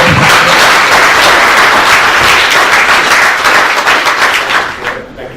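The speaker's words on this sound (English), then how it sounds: "let's give a round of applause for our" Loud, sustained audience applause at a forest certification conference in Bali, Indonesia, many hands clapping close and steady before fading near the end.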